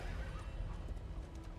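Shadow horses by a fancy coach in Darkest Dungeon II neigh and whinny over a dense, loud background, with clip-clopping hooves mixed in throughout.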